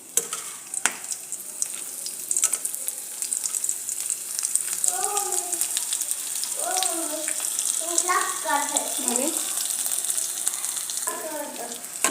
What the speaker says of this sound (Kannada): ನಾನು ಎಣ್ಣೆಯಲ್ಲಿ ಬಿಡ್ತಾ ಇದ್ದೀನಿ.